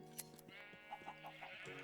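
Sheep bleating in the Minecraft video game, several short bleats in quick succession, soft and layered over a steady game background hum with no talk.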